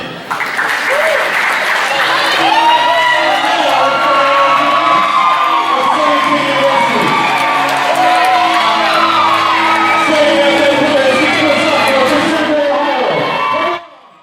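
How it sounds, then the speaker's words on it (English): A large crowd cheers, whoops and applauds steadily at a men's college volleyball match in the Knight Sports Arena, with loud, sustained roaring and clapping that cuts off abruptly at the end. "a big crowd here today at the barn at the Knight Sports Arena"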